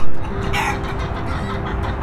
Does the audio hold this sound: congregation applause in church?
no